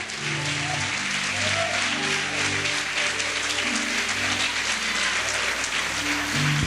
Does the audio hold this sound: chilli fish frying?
no